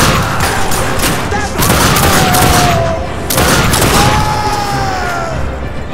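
Rapid gunfire in The Darkness 2 roars in long sustained bursts, loud and close, broken by short pauses, with a whining tone sliding underneath.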